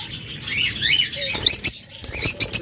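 Caged lovebirds, cockatiels and budgerigars flutter in quick, close bursts of wing flapping with soft scratchy patter and faint chirps between.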